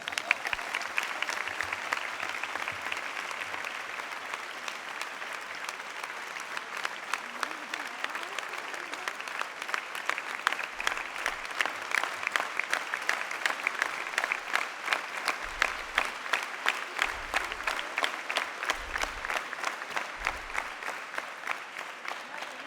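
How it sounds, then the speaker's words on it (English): A large audience at an alumni meet applauds a Gotipua dance troupe continuously for a long stretch, dense clapping with occasional low thumps underneath, steady and fairly loud throughout. "big round of applause"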